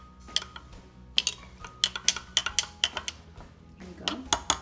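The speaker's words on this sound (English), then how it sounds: "We're gonna go ahead and stir it some more." A spoon scrapes and clinks against a bowl while stirring chia seed pudding, a steady run of close, sharp taps and scrapes with no talking.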